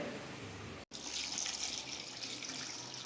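Water poured from a tap into a pot of chopped beans before boiling, a steady close hissing splash running continuously after a brief cut near the start.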